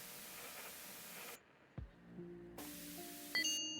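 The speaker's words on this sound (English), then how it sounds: "We'll go and spray this down." Aerosol cleaner hisses in a short, loud burst onto a dirty electronic device in a Japanese 2000s tech shop setting, followed by quiet, then a second burst with clicky tones at the end.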